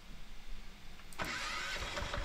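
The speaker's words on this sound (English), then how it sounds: "Now I'll start the engine again, and it will start on diesel fuel" A diesel generator engine cranks and catches about a second in, then runs loudly and steadily after a quiet lead-in of low background rumble, with no voices.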